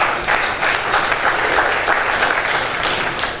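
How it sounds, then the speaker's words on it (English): At an awards conference, an audience claps in a continuous, moderately loud wash of applause with slight swells, no voices rising above it. "Please give him another round of applause."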